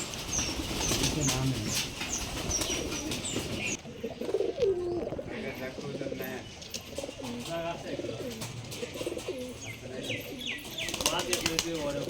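Domestic Giribaz pigeons coo repeatedly, with bursts of wing flapping and scattered chirps from the flock, while people talk nearby over the birds.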